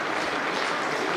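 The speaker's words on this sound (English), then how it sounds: "Gets the applause from his teammates." Teammates briefly applaud Brad Haddin's century during a Ford Ranger Cup one-day cricket match, Tasmania Tigers versus NSW Blues, with a short, faint patter of clapping.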